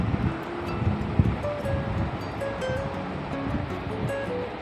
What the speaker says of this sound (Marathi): यामध्ये हवे तेवढे गार पाणी टाकून घ्या